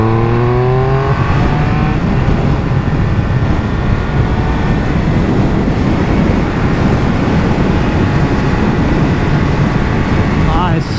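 A Triumph Speed Triple 1200RR motorcycle accelerates hard, its engine note climbing through gears under heavy, constant wind roar close to the rider.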